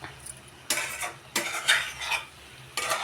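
Brinjal curry being stirred in a pan after gram flour is added, with several close scraping, clinking stirs against the metal between short pauses over a soft sizzle.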